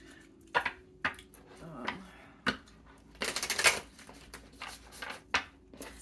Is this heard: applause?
no